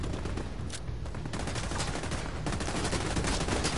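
Dense, rapid gunfire from the shooter video game The Division 2, a continuous crackle of loud overlapping shots from start to finish with no talk.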